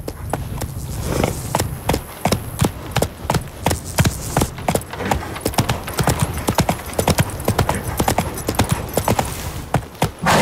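A horse gallops in The Witcher 3, its hooves pounding in a loud, rapid, regular clip-clop rhythm that runs for the whole stretch, sharp and close, with a brief softer lead-in.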